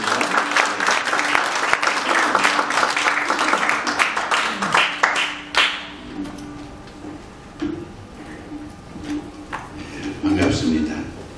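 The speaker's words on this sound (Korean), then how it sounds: "우리 박수로 한번 모시겠습니다" An audience at a church forum claps to welcome a pastor to the stage: dense, loud applause for several seconds that thins into scattered claps, with a voice speaking near the end.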